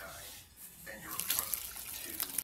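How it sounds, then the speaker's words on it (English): Hot water poured into a bowl of Jell-O powder mixture, a close, steady splashing stream that grows a little louder and fuller before stopping abruptly. "I'm going to pour in the 3 cups of the hot water so you don't burn yourself."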